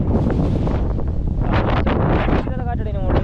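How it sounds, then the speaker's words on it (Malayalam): Strong wind buffets the microphone on a hilltop above a deep gorge, a steady loud roar with gusts throughout, and faint talk is heard underneath. "നല്ല കാറ്റാണ്."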